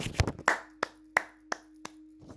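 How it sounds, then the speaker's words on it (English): A few sharp hand claps spaced unevenly, sounding close and dry, following a brief burst of speech at the start. "We gotta clap it up, bro."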